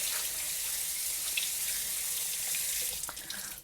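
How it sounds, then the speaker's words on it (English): Tap water runs steadily over canned beans in a strainer at a kitchen sink, a close, continuous hissing splash with a brief shift in the flow near the end. "I'm just going to put all 3 beans in the strainer, and I'm just going to kind of rinse them all out really well."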